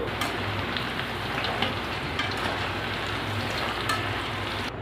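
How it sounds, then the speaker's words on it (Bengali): Soybean chunks frying in hot oil for a soybean chilli dish, a steady dense sizzle with crackling pops throughout, close and continuous with no talk. "এভাবে করে আমি সবগুলো ভেজে নেব"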